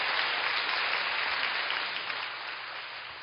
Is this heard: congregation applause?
yes